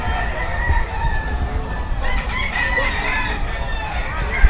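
Roosters crow and chickens cluck in the poultry section of the Bocaue pet market, the calls rising over a steady, busy crowd-and-market din with no clear talk.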